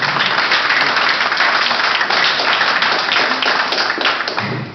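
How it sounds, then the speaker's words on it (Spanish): Audience at a Peruvian mining company event applauding an introduced speaker, a dense, steady wash of many hands clapping, fairly loud and sustained throughout, with no talk over it. "Un aplauso, por favor."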